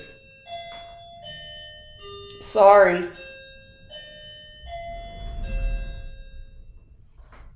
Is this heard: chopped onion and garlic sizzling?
no